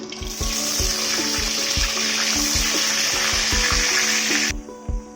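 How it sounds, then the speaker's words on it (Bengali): Potatoes fry in oil in a wok with a loud, continuous sizzle. Regular low knocking thuds run underneath, with a faint steady hum. "আমি এখন আলুটাকে ভেজে নেব"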